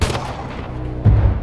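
Gunfire in an action film about a retired special forces soldier: a heavy boom opens, then a second loud shot lands about a second later, both booming and close.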